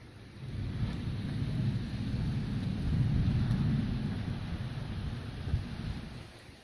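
A severe thunderstorm rolls over Dauphin Island, Alabama, with a steady, low rumble of thunder, rain and wind that swells and fades, heard outdoors with wind buffeting the microphone.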